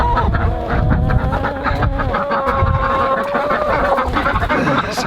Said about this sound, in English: You can see one of our Bielefelder roosters right there.